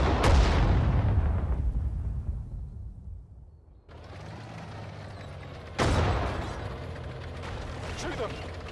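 Soldiers open fire in the WWII strategy game Sudden Strike 4, Battle of the Ypres, with a loud opening burst, a lull, then a second sharp volley and rattling shots under battlefield noise and a brief voice.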